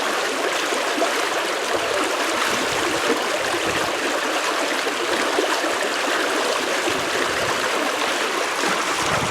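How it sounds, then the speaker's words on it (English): Steady rushing and babbling of a flowing stream, continuous and fairly close, with no voices. "but you listen to the water."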